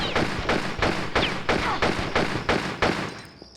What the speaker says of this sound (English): he's right there shooting his revolver at you.